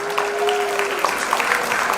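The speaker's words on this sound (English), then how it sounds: "everybody please give them a big round of applause" Applause for award recipients at an evening awards gathering, a steady, even wash of clapping from the audience with a faint tonal hum underneath and no talk.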